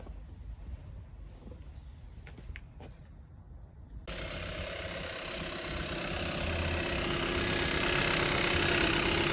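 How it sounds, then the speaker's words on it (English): A Kia car engine idles steadily with a low rumble while the radiator fan is checked; partway through, a broad rushing whir starts and keeps growing louder, close by. "We just check that engine goes up to temperature and the fan comes on"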